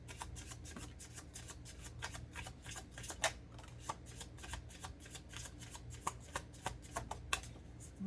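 Light shadow tarot cards are shuffled in a steady, rapid riffle of crisp papery flicks that carries on continuously and close up, with no talk.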